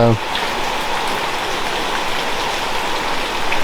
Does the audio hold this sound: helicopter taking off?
no